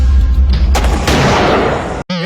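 Gunshots ring out as a cheap-sounding sound effect in a low-budget film scene, a dense run of loud overlapping bangs like firecrackers. The barrage ends in a brief cutoff before a short burst of sound returns.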